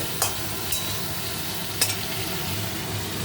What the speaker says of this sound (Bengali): আলুগুলো দিয়ে দিলাম, আলুগুলো একটু ভাজা ভাজা মতন হয়ে যাক